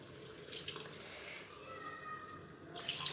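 Water splashes and trickles into a cooking pot of shaljam gosht, a turnip and meat curry, in short bursts with a softer running stream between them.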